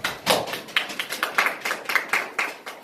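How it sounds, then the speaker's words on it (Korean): An audience at a labor union press conference applauds to open the event, a brief burst of steady, moderately close clapping with no talk over it. "이 자리에 계신 분들의 박수로 시작하도록 하겠습니다"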